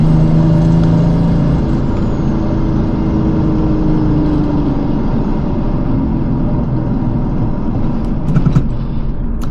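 A 1995 Mercedes E300 turbo diesel car drives and accelerates onto an on-ramp, a steady loud engine rumble heard from inside the cabin that swells slightly as it speeds up.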